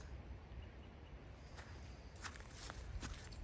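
Footsteps crunching across soft snow on a hike to a waterfall in Van Sickle Bi-State Park, a steady close series of muffled, crisp steps over faint outdoor background noise.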